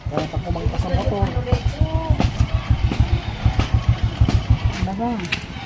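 A motorcycle engine idles with a steady, pulsing low chug, while people talk close by over it.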